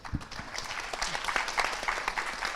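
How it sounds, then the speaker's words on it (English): An audience at a DNS industry forum panel gives a round of applause for four speakers, a continuous patter of many hands clapping at moderate volume in a large room. "Can I ask the audience to join me to give a round of applause for our 4 speakers?"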